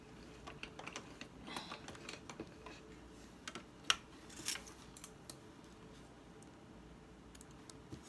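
Scissors or pinking shears snip through fabric while a small catch-all bag is being cut out, giving a few scattered close clicks and cuts over a quiet room, with one sharper snip near the middle.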